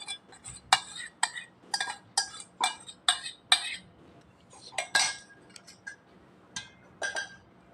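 A spoon clinks and scrapes against a metal pot as boiled tamarind is mixed into cooked rice for temple-style pulihora, giving a quick run of sharp metallic taps and knocks in irregular bursts over a quiet background.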